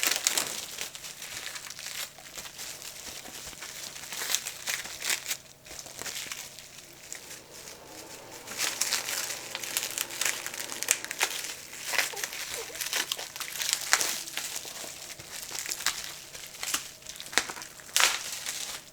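Plastic wrap crinkling and tearing as it is peeled off the instructions and element of a Golden Rod 45 10-meter CB radio antenna, with continuous close rustling and crackling in uneven bursts.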